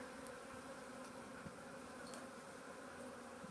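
A package of honey bees being installed in a hive, a low steady buzzing drone from the swarm with a few louder individual bees passing close, and no speech.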